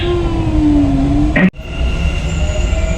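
A passenger train runs with a steady rumble and a tonal whine that drops briefly before the noise continues, heard from onboard.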